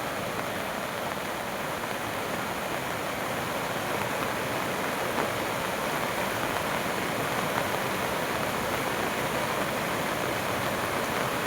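Steady, dense roar of rushing water, broadband and unbroken throughout, from a river swollen by the first monsoon rains flowing past a small check dam nearby.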